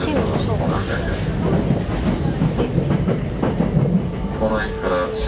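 Hankyu Railway electric train running near Kobe-Sannomiya, a steady rumble of wheels and carriage noise under a spoken onboard announcement.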